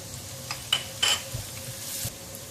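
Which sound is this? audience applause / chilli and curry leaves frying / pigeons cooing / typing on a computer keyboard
chilli and curry leaves frying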